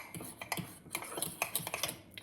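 Flour mug cake batter being mixed, with quick, light, irregular clicks and taps of a spoon against a mug, close but faint.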